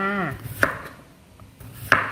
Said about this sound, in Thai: หั่นทั้งหัวแบบนี้เลย หั่นเป็นแว่นบาง ๆ